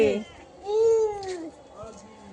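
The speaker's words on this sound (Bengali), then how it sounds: "তোমরা তো দেখছোই বিড়ালটা কেমন করছে, বারবার ডেকে ডেকে বলছে যে দরজাটা খুলে দাও" A cat yowls and meows repeatedly at a closed door, wanting it opened; two drawn-out cries ring out close by over a quiet indoor background.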